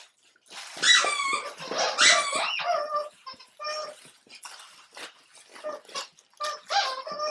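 A small 25-pound dog plays with a Barkbox squeaky toy made for large breeds, giving repeated close, high squeaks in quick bursts alongside soft whimpering sounds.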